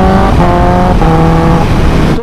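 Kawasaki Ninja ZX-10R 2022 sportbike fitted with a very loud aftermarket exhaust, engine note droning steadily and loud up close with shifting harmonic tones, cutting off abruptly at the end.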